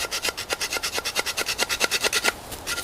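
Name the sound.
sawing off a piece of bamboo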